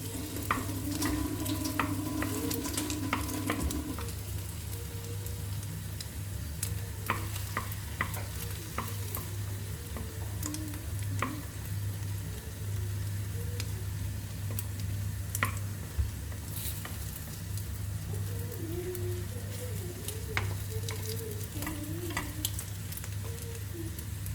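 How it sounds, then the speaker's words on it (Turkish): Eggs poured over potatoes sizzle steadily in a frying pan while a utensil stirs and scrapes through them, with soft wet squishes and taps over a constant frying hiss; no one speaks. "Şimdi iyice şöyle yavaş yavaş araları açarak yumurtanın akmasını sağlıyorum."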